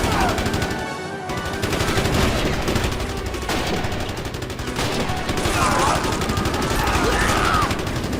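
A Maxim machine gun fires in the video game Minecraft, rattling bursts of rapid automatic shots that run almost continuously, loud and dense, with a voice speaking underneath.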